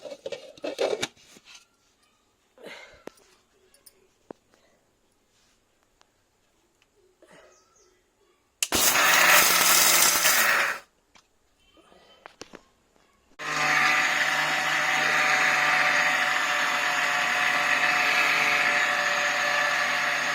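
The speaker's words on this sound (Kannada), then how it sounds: "ಮಿಕ್ಸರ್ ಹಾಕೊಂಡ್ರಿ. ಇದು ಮಿಕ್ಸರ್ ಹಾಕೊಂಡು" A loud whirring mixer grinder runs in two bursts, blending tomatoes into paste, a short one first and then a long steady grind, with scattered quiet clatter and brief talk before.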